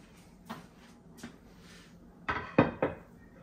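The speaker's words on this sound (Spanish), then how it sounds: "En esta segunda idea voy a estar colocando esta tabla, la tabla de mármol." A marble board set down on a coffee bar gives a few hard knocks and clinks, two light taps first, then a cluster of three louder close contacts near the end.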